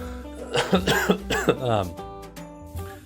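Several harsh coughs in quick succession, close to the microphone, followed by a brief throat clear and quieter breathing.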